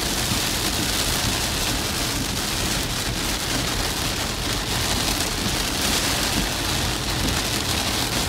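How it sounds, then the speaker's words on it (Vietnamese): Heavy storm rain pours down on a mountain in Phu Quoc, Vietnam, in a dense, constant hiss, loud and unbroken throughout, with no voices. "quá trời mưa rất lớn không có thấy đường thấy xá gì hết"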